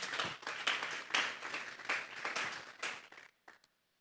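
Church congregation at a Sunday service giving applause in bursts of clapping, moderately loud, fading out to near silence with a few last claps.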